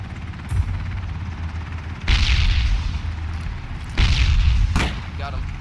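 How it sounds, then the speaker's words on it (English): Frag grenade blasts in Ring of Elysium, two loud booming explosions a couple of seconds apart, each with a rumbling decay, over a background of steady noise and a few sharper distant cracks. "I'm gonna throw a frag up there."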